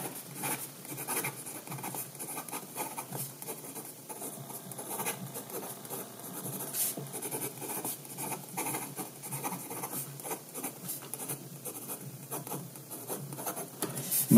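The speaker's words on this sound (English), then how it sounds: "Fast writing." Fast handwriting with a Moonman/Majohn A1 capless, clipless fountain pen: a steady, continuous nib scratch and paper rub, close and fairly quiet, with no talking.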